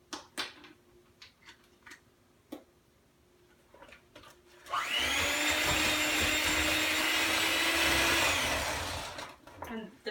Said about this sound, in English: that didn't take very long to mix the vanilla